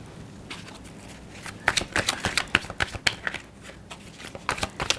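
Tarot cards are shuffled and laid down in quick irregular flutters and snaps, close and fairly quiet, with a soft background hiss and no talking.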